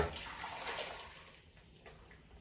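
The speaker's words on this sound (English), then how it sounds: "I'm going to take the liquid and carefully pour it over the corned beef in the crock pot" Hot liquid poured carefully over corned beef in a crock pot: a close, gushing pour that starts strong and tapers off over a couple of seconds, with no talk.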